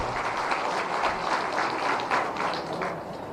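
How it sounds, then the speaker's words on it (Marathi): A large crowd claps vigorously at a public government outreach event in Kankavli, dense sustained applause filling the hall before easing slightly at the end. "एकदा जोरदार टाळ्यांचा आवाज"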